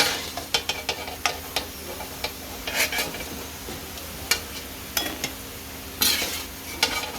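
Ingredients sauté in oil in a pan, a light sizzle under frequent clinks and scrapes of a metal utensil tapping and stirring against the pan, close by and without talk.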